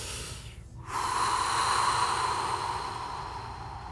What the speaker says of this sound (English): I'm going to take a deep breath right here.